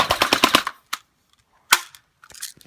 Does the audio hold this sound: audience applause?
no